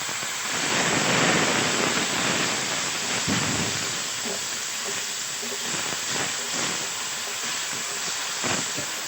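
Water poured into a hot pan of spices for a fish curry sets off a loud, continuous hiss of steam that swells early and then settles into a steady, noisy sizzle.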